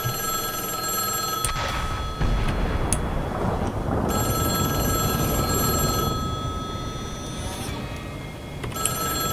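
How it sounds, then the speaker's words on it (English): A payphone in a Minecraft video game rings with a loud, sustained electronic bell tone, repeating in bursts separated by short gaps over a rumbling game background. "Yet another payphone is ringing"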